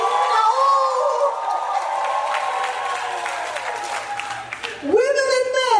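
An audience at a Rotary District Conference in Diani claps and cheers loudly, with voices shouting and whooping over the crowd noise; the clapping eases briefly before another burst of excited shouting.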